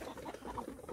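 Mother hens clucking softly inside a coop, a short stretch of close, continuous low murmuring and brief calls.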